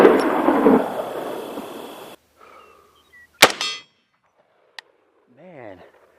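A .458 SOCOM rifle round strikes a steel plate with a sharp metallic clang that rings briefly. A burst of outdoor noise comes first, a fainter ping follows, and a voice speaks at the end.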